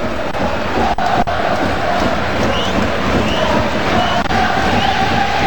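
A huge stadium crowd of about 54,000 at a football match in Saitama, Japan, makes a dense, continuous roar with chanting and cheering that stays loud throughout.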